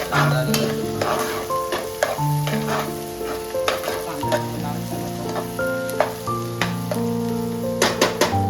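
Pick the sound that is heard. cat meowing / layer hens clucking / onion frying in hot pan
onion frying in hot pan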